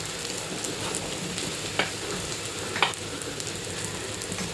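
Onions fry in a pan with a steady, dense sizzle throughout, punctuated by two brief utensil scrapes or clicks; no talking.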